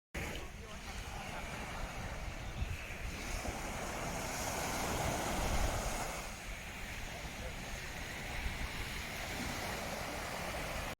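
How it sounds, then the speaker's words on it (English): Calm sea waves wash steadily onto a sunny beach in Malaga, a soft continuous surf with some wind noise on the microphone, moderately loud and unbroken, with no talking. "Like listening to the waves, the sea is calm"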